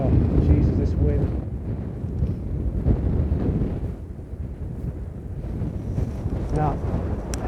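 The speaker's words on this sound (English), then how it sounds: "this wind" Strong wind buffets the microphone outdoors on a golf course, a steady low roar with gusty swells throughout, while a voice talks briefly over it.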